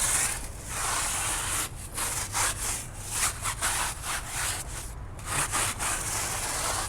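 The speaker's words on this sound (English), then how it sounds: "So scrub it back and forth." A stiff brush scrubs a degreaser-coated truck tire back and forth, producing a steady, close rasping swish with repeated strokes and no talking.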